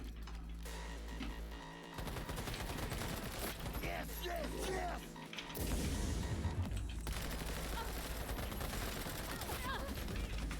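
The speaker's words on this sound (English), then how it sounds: "That better be an actual assault rifle." Assault rifle gunfire in the video game Cyberpunk, rapid automatic bursts rattling over a dense game mix in steady stretches with short pauses, with a voice talking over part of it.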